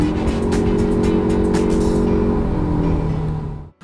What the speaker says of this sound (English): there's still that annoying CVT whine. At all speeds.